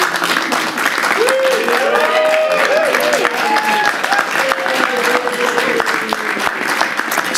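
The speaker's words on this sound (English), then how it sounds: "Exceptional applause group here" Crowd applause at a New York City mayoral joint press conference, a steady, dense roar of clapping lasting several seconds, with voices and cheers mixed in.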